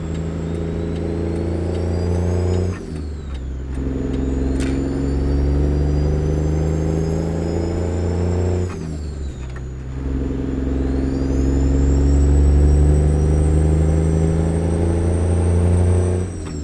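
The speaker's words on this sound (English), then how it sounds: "I'll shut up here for a little bit so we can just listen to the engine sounds here" A heavy truck engine in American Truck Simulator, hauling a Volvo excavator, pulls loud and steady through the gears, its pitch climbing and then dropping at each of two shifts, with a whine running on top.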